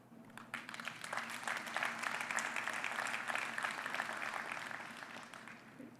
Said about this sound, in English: Let us collectively applaud and express our gratitude to all of our sponsors, our exhibitors for their continued support